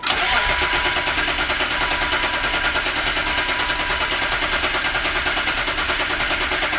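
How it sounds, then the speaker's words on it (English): A loud, steady starter motor cranks a BMW M3 engine, abandoned for four years, continuously with a fast rhythmic chugging, close up, without the engine catching. "Starter's loud. It is loud. Starter is loud."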